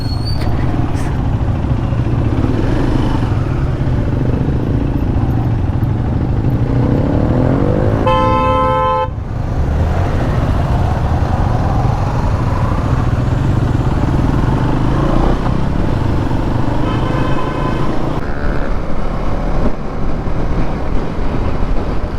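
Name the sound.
many motorcycles riding in a line on a road trip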